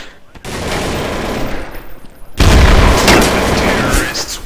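Gunfire in Counter-Strike: Source on the Inferno map, a steady rattle of shots that swells into a louder, closer burst with booming impacts partway through.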